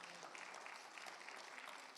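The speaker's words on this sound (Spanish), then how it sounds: "Le dan un fuerte aplauso" A congregation applauds at a Spanish-language Thursday Bible study, a faint, steady wash of clapping from the room with no voices over it.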